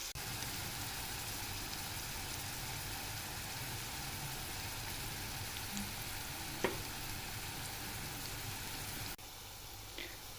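Soft, steady sizzling of garlic and onions frying in a pot, with a faint utensil clink partway through.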